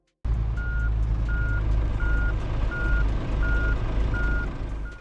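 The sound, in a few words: truck reversing beeps, from the video game Truckers of Europe 3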